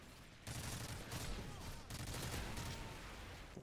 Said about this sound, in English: How the fuck somebody still shooting at me?